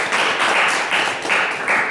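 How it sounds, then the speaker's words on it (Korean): A church congregation at a Sunday service claps together, a loud, fairly even burst of applause from many hands with a few faint swells in the rhythm, and no talk over it. "우리 감사합니다. 박수 한번 하시죠."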